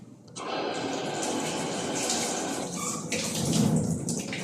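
Broccoli washed under running tap water, a steady rushing stream of water that starts abruptly and continues throughout, close by, with splashing shifts as the vegetable moves under the flow.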